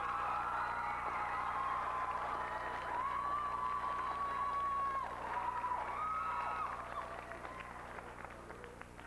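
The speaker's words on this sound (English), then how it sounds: "a good round of applause to congratulate all three teams" A round of applause congratulates three teams at a 1989 Scott HiQ quiz competition at Coleman. It sounds like faint, distant, steady crowd clapping with scattered voices, thinning out toward the end.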